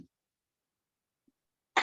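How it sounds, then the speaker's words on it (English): A single short cough bursts out near the end, close and fairly loud, after a faint brief sound at the very start and a long stretch of near silence. "I have a cough"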